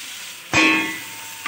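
Marinated chicken drops into hot oil in a pan for a Bengali chicken korma, setting off a sudden loud sizzling hiss that fades slowly over about a second, with no talk.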